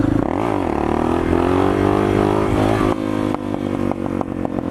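A Suzuki DR650 motorcycle engine revs hard while the rider tries to lift the front wheel. It holds a loud, steady drone that climbs in pitch, then breaks into choppier bursts as the throttle changes.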